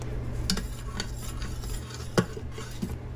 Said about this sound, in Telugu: దానికి కూడా వేసుకుని 1-5 నిమిషాలు చక్కగా ఫ్రై చేసుకోవాలి.